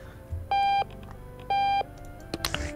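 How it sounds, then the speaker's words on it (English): An alarm clock in Octodad: Dadliest Catch beeps in two sustained electronic tones about a second apart, then a few thuds and clatter follow. "I gotta shut off the alarm. It's getting annoying."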